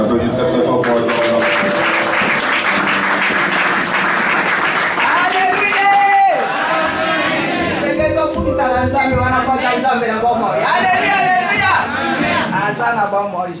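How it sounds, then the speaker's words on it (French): A church congregation applauds during a worship service, clapping mixed with crowd chatter and voices, then fading under singing and music as the applause gives way. "On applaudit très très fort pour la gloire."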